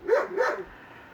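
An old shop dog barking outdoors, likely at a rabbit: two quick, fairly loud barks in succession, then a fading tail, with no talking over them.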